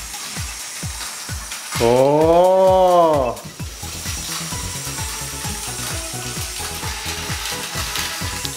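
Plarail Advance D51 200 steam locomotive toy train running on plastic track, a steady clicking mechanical rattle throughout, with a loud rising-and-falling whistle-like tone near the start and brief voices.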